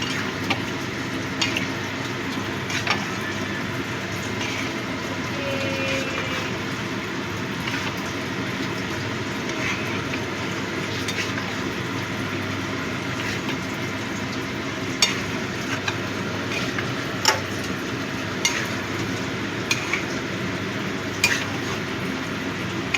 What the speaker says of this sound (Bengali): এই নিউট্রেলাটা দিয়েও ভালো করে মিশিয়ে নেব।